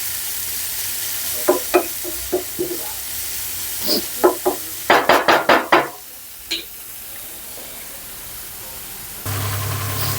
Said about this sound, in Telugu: హై ఫ్లేమ్లోనే పెట్టుకొని వేపుకోండి